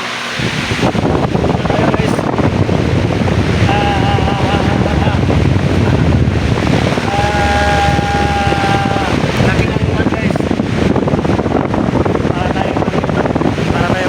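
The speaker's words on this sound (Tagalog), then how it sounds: "Sobrang hangin." Loud wind buffets the microphone in a constant roar, with a faint whine and background noise running throughout.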